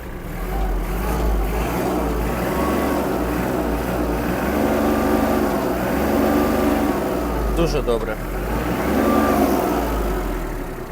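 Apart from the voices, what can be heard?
Kubota KL-33 mini tractor three-cylinder engine revving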